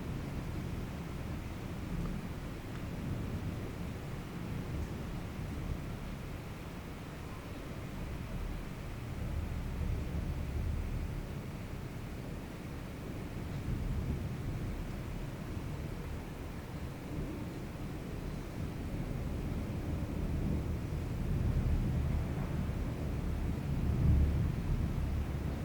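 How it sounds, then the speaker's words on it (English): An extreme thunderstorm outside produces a continuous low rumble of thunder mixed with steady rain hiss, swelling louder in places toward the end, with no voices. "I'll just let you guys enjoy the storm."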